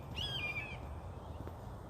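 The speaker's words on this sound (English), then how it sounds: "Got a hawk calling at us." A hawk gives a single short, descending screech outdoors at moderate distance, followed by quiet ambient background.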